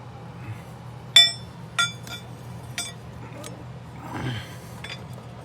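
Metal wrenches clink against each other as they are handled while installing a fuel pump on a 1997 Ford F350 Powerstroke: four or five sharp, bright clinks spaced about a second apart over a low background hum, then faint rustling.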